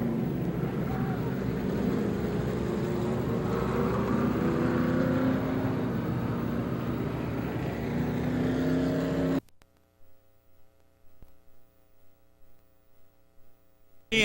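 Pro stock race cars roar around the Star Speedway oval, a loud sustained engine drone that sweeps past and then drops abruptly to near silence.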